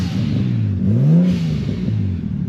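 A Nissan Skyline with an RB25DET engine and an aftermarket TurboSmart blow-off valve revs up and falls back, a rising and falling engine note close by with no talk.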